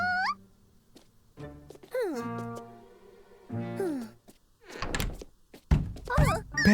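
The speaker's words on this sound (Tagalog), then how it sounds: "May kumakatok ng paulit-ulit." In a children's cartoon, a door is knocked on several times in separate thuds and bursts, alternating with animated character voices.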